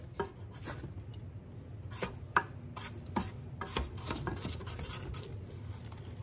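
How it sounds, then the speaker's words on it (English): Mixing bowl of cherry chocolate chip cookie dough being scraped down with a spatula, a series of quiet, close scrapes and soft knocks against the bowl at an uneven rhythm. "I'm going to scrape this bowl one time"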